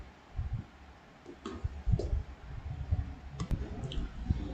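A computer mouse gives scattered, faint clicks, a few sharp single taps spread over a few seconds against low background rumble and muffled room noise.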